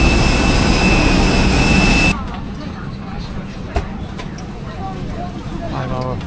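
A jet engine roars loud and close during an airliner flight to Beijing for about two seconds. It then gives way to a quieter, steady cabin drone with faint voices in it.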